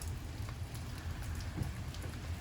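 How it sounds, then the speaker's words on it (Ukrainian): Steady rain pattering outdoors around a gazebo, with dense drops and a low rumbling hiss at constant strength, nearby and without any voices. "На вулиці йде дощ, а тут в альтаночці так затишно і гарно."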